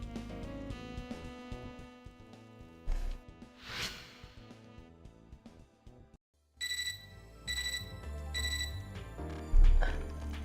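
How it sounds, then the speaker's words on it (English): In the video game Fate/EXTRA, a terminal gives off an electronic chiming alarm: a run of bright, repeated beeping tones over background game music, after a brief gap of near silence. "An electronic chiming sounds from my terminal."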